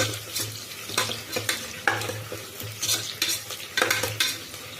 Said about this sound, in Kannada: ನಾನು ಚಚ್ಚಿಟ್ಕೊಂಡಿರೋ ಶುಂಠಿ ಮತ್ತು ಬೆಳ್ಳುಳ್ಳಿ ಮತ್ತು ಹಸಿಮೆಣಸಿನ್ಕಾಯಿ ಇದು ಸ್ವಲ್ಪ ಫ್ರೈ ಆಗಲಿ